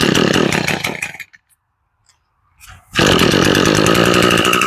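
An Echo SRM 225 string trimmer that had been running poorly is loud and buzzing at first, falls silent for over a second with a brief sputter, then fires back up and runs at a steady, high-revving whine.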